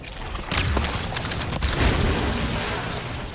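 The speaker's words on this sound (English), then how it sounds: "Those red explosions are Warmind charges." Warmind charge explosions go off in the shooter game Destiny 2, a dense, continuous run of booming blasts and crackling bursts that starts abruptly and keeps rumbling loudly throughout, with no voices.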